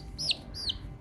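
Ayam Cemani chicks peep twice, two clear high descending calls about a third of a second apart, close by over a low steady background hum.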